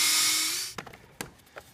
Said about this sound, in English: and pre-drill just a little bit.